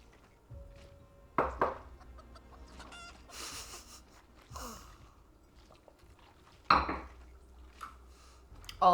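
Farm chickens cluck in short, scattered bursts, with a few louder clatters and knocks mixed in, fairly close and without talk over them.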